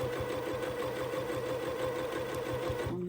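Close and steady, a sewing machine runs along a quilt seam with a rapid, even mechanical chatter and hum that stops abruptly at the end.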